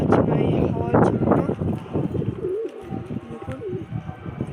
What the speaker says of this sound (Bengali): পায়রা ঘোরাফেরা করছে।